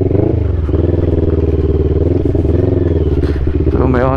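A motorcycle riding a rough mini off-road stretch, its engine droning steadily and loud up close with rattling and clatter from the bumpy ground throughout.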